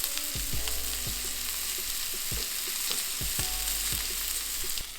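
A steak sears in a hot cast iron pan, a close, dense, continuous sizzle with a few soft knocks and clicks over it, with no talking.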